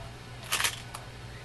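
A camera shutter fires once, sharp and close, while photographing the chassis of a Philco 90 radio under repair, followed by a fainter click against a steady low hum.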